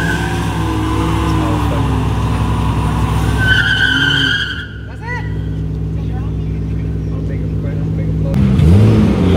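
A sports car pulls into a parking spot at a car meet, its engine loud and steady, with a brief tire squeal and hum of the crowd around it.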